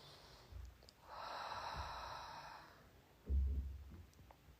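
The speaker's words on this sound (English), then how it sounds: "Just taking a few deep breaths here." Slow, deep breathing close to the mic: a short nasal intake, then a long soft exhale, and a sharper breath near the end, with no talking over it.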